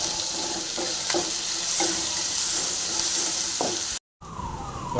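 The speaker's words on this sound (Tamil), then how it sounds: "பாருங்கள் நல்லா ஃப்ரை ஆகிட்டு வருது" Steady close-up sizzling of onions frying in a hot pan, with occasional scraping stirs, before a brief cut of silence.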